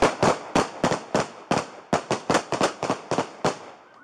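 A rapid volley of about fourteen loud gunshots during an active shooting caught on a police body camera in Woodlawn, sharp cracks in an uneven burst, close and alone with no talk.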